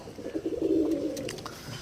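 One low, throaty pigeon coo swells and fades over about a second, close by and steady, from well-bred pigeons kept in a home loft.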